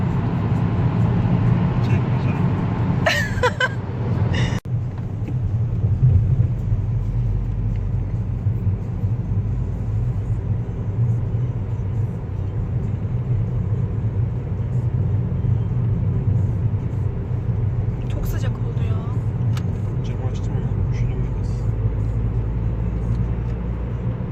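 A car passes along a city street in Ortaköy, its steady low rumble filling the scene, with brief clatters early on and other street noise in the background.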